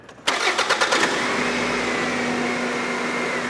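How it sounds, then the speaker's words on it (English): The engine of a 2001 Toyota Solara cranks with a few rapid chugs, catches and settles into a steady close idle hum that carries on to the end. "Go ahead and start our engine."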